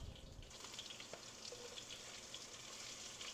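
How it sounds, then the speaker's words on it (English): Garlic fries in a pan for Filipino chicken adobo, a steady, faint hissing sizzle with no pauses. "we're going to add our garlic."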